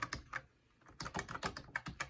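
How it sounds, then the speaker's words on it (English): Quick bursts of keystrokes clack on a MEETION C2000 wireless keyboard, a short flurry of crisp, close taps followed by a brief pause and another irregular run of typing. "And then I can start typing anything I want to."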